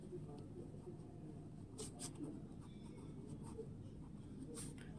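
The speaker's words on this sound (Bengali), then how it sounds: "আমি লিখে ফেলবো" Pen or marker writing out numbers during a Class 7 math lesson, a soft scratchy stroke noise with a few brief sharper strokes over a steady low background hum, close and fairly quiet.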